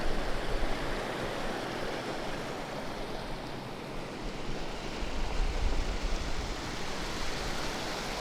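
Steady broadband rush of flowing water at Tuolumne in Yosemite's Cathedral Range, a continuous close wash of a river or stream with no talk, holding even throughout.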